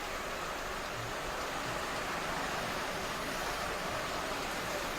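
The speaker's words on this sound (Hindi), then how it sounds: "बरसात लगातार हो रही है" Heavy rain falling on city streets in Delhi during morning commute waterlogging, a continuous dense hiss of downpour at even loudness throughout, with no distinct voices.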